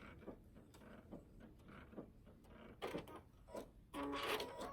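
A sewing machine makes a tie-off stitch at the end of a seam on a scrap quilt, giving faint mechanical clicks and taps that end in a short, louder whirring burst.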